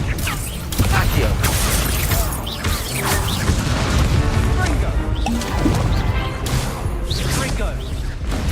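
A spell being cast in the video game Hogwarts Legacy, heard as a burst of crashing, whooshing magic effects with thuds that run through a busy stretch of continuous game combat noise.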